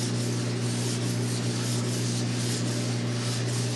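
Steady close-up rubbing of 600 grit sandpaper on wood, a continuous hissing scrape with gentle regular strokes and a low hum beneath, no talk.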